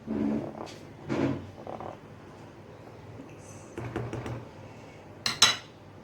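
Dry fruits being stirred into saffron masala milk in a metal pot, giving a few scattered clinks and scrapes of a spoon against the pan with soft rustling between them, fairly close and quiet, with no voices.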